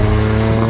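A loud, steady mechanical roar with a deep low drone and broad hissing rush, sustained without a break, from an external turbo wastegate venting through a roughly foot-long screamer pipe on a big-turbo first-generation Mazda RX-7.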